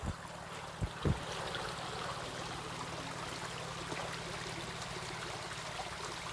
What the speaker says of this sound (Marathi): हा जो ओढा आहे बाजूला शेताच्या बाजूलाच